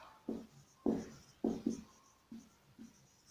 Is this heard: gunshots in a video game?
no